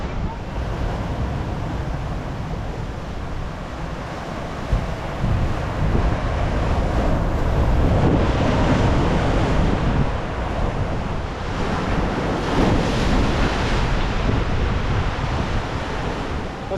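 Ocean waves surge and crash against coastal rocks on the Dee Why to Curl Curl rock traverse a few hours before low tide, a continuous loud roar with swelling peaks and heavy wind buffeting the microphone.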